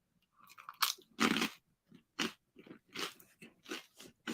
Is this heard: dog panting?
no